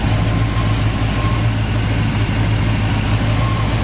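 A 1981 Pontiac Trans Am's Pontiac 400 V8 engine idles steadily nearby, a continuous low rumble with an even throb and no voices.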